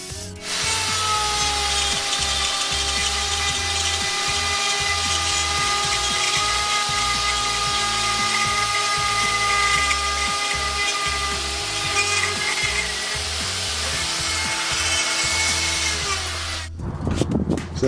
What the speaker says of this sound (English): So that's the router.